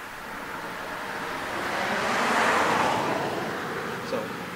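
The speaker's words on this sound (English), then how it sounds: "And all the noise and the traffic and all that lovely stuff." Street traffic rushing past, a broad hiss that swells as a vehicle approaches, peaks mid-way, then eases off, with a brief small knock near the end.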